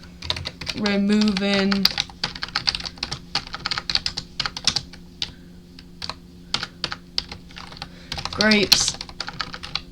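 Python code being typed on a computer keyboard, with rapid, uneven bursts of close key clicks running throughout and a voice speaking briefly near the start and again near the end.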